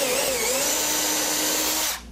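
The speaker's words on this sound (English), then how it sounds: "Now I'm gonna pre-drill these." A power drill runs steadily at high speed, pre-drilling screw holes for a window install on a blank supporting wall, loud and close with a whining tone that dips slightly before cutting off sharply near the end.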